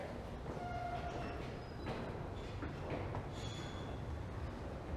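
A westbound subway train at a Toronto station fills the space with a steady, loud rumble, with brief metallic squeals and tonal whines rising over the continuous din.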